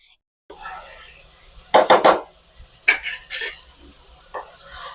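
Masala chicken frying over a high flame is stirred in a pan, with a few sharp scraping and clattering strokes over a quiet sizzle, some bursts close together and others spaced out.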